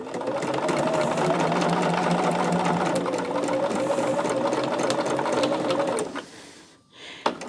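A sewing machine stitching a row of quilt blocks for a pumpkin quilt runs at a steady fast hum for about six seconds, then stops, followed by quiet handling noise.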